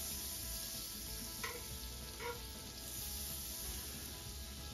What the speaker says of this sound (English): let's throw some butter in there. Start getting that melted.